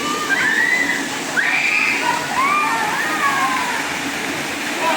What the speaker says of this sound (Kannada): ನೋಡಿ ಹಂಗೆ ನೀರು ಈ ಕಡೆ ಹರ್ಕೊಂಡು ಹೋಗ್ತಾ ಇದೆ